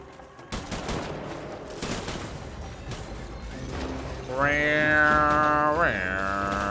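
Gunfire rattles in the video game Death Stranding, a dense burst of shots and mechanical clatter followed by a loud, sustained tonal whine, all fairly close and loud.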